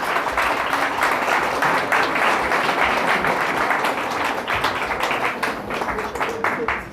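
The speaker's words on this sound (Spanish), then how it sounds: "démosle un aplauso al Señor por estos niños" Congregation applauding in a church after children take part in a service, a dense sustained round of clapping from many people filling the room, with voices audible beneath it.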